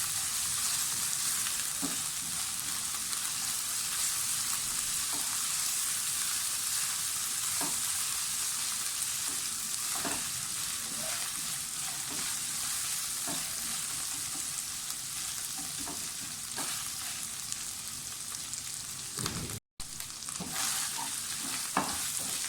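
Steady loud sizzling of garlic and ginger frying in a pan, with a utensil scraping and stirring every second or two.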